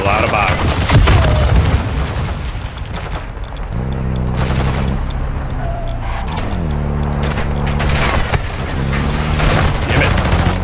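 Bursts of gunfire in a hectic video game: rapid automatic volleys and heavy booms, loud and close, running on steadily alongside a droning engine hum with a few voices.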